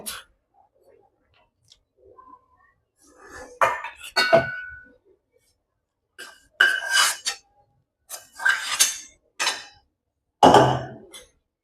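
Sukhadi mixture being spread and pressed into a greased metal plate with a utensil, giving scattered scraping clinks and taps in short separate bursts with quiet gaps between them.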